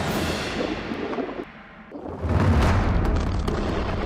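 A heavy explosion from an air strike on the Gaza Strip: a rolling rumble dips briefly, then swells into a loud, deep boom that lingers with broad roaring debris noise.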